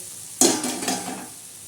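Bitter gourd sabzi sizzling in a pan as the lid comes off, a sudden burst of frying hiss and stirring that fades gradually over about a second.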